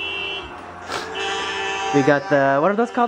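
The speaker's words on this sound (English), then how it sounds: "Let me turn on the car alarms." Car alarms blare during a New Year's Eve gathering: a steady buzzing tone gives way to rising and falling electronic whoops, loud and close, while people talk and shout over them.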